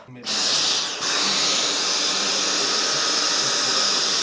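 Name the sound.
vacuum cleaner cleaning under a bed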